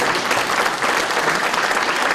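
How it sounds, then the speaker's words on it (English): A crowd at a community hometown-heroes awards ceremony in Romulus gives a round of applause, a loud, even burst of many clapping hands with no voices over it. "Give Jim a round of applause."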